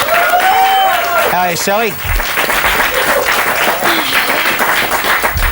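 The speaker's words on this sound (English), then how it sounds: "Round of applause for them." Studio audience on a game show clapping for a pair of guests, a steady bed of applause running underneath a presenter's voice, which talks over the start before the clapping carries on alone at a moderate level.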